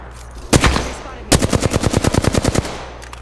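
Gunfire in Apex Legends, with a couple of loud shots followed by a fast, evenly spaced burst of about a dozen rounds, close and punchy, with no talk over it.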